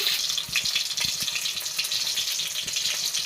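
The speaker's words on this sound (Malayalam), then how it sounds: "ഒരു ചീനിച്ചട്ടി അടുപ്പത്തേക്ക് ഓയിൽ ഒഴിച്ച് കുറച്ച് ഉള്ളി, വെളുത്തുള്ളി," Onion and garlic fry in oil in a pan, giving a steady bright sizzle with small crackling pops throughout.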